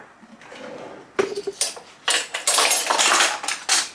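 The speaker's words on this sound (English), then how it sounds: "Now I'm going to grate my nutmeg." Whole Grenada nutmeg scraped on a small handheld grater, a run of close, bright rasping strokes in uneven bursts with light metallic clinks.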